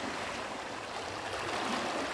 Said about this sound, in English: listening to the waves coming in through the chasms and cracks and crashing against the rocks